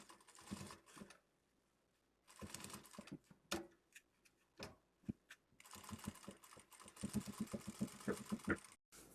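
A sewing machine stitching a seam on a small lipstick pouch gives short, fast bursts of rapid mechanical chatter, starting and stopping between pauses, close and moderately loud.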